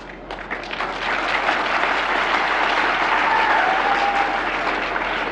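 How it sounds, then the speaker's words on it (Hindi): A crowd at a political rally in Jodhpur, Rajasthan claps loudly, starting a little uneven and quickly swelling into dense, sustained applause that holds steady for several seconds. "जोरदार बजाओ ताली को, और जोरदार"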